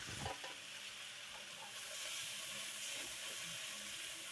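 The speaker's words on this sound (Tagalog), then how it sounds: "nasa inyo na po kung gusto nyo i-gisa yung munggo" Mung beans sautéing with aromatic ingredients in a pan give a soft, steady sizzle and hiss, fairly faint, with a few light stirring scrapes and no voices.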